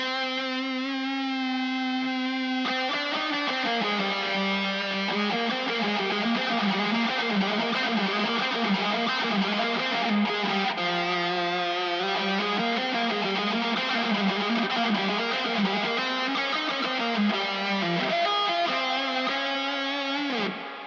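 A distorted electric guitar plays a sustained, wandering melodic line soaked in reverb, notes blurring and ringing into one another without pause.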